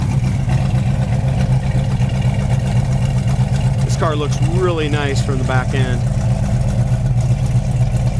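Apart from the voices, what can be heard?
1971 Ford Mustang Mach 1 351 V8 engine running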